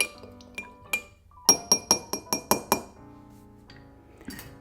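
A spoon stirring an Old Fashioned whiskey cocktail in a glass, giving sharp bright clinks: a few spaced taps, then a quick run of about seven rhythmic chimes, then a softer clink or two, close and clear with no talk.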